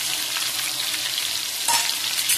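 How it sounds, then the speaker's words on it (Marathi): Ground masala with cumin, asafoetida and curry leaves sautés in a hot pan, a loud, continuous close-up sizzle and fry with the faint scrape of stirring and no voices. "जरा परतून घ्यायचा"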